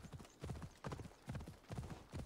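Horse hooves clip-clop in a steady galloping rhythm while riding in Assassin's Creed Odyssey, with repeated close, loud bursts of hoofbeats and no talking.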